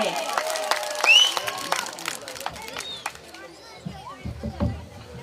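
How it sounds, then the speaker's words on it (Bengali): Applause for a doctor, a nephrology director, at a school function: scattered moderate clapping from an audience, with children's voices and crowd chatter mixed in, fading toward the end. "স্যারের জন্য আবারও জোরে একটা করতালি হবে"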